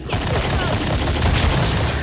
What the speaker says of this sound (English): Use the pistols to shoot their heads off.